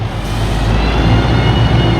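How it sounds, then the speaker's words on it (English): A dump truck loads a seal coating chip spreader machine on a road job, heard as a steady, loud low engine rumble close by. "they're actually loading the machine with a dump truck"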